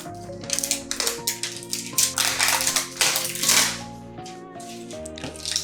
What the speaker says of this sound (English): I'm just gonna use these scissors to take off the plastic wrap.